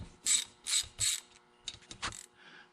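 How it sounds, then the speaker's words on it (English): A ratchet and pawl mechanism in a Can-Am DS90X engine clicks as it is turned by hand, three sharp distinct clicks followed by a few quieter, quicker ones, close and alone. "So I guess it's like a ratchet"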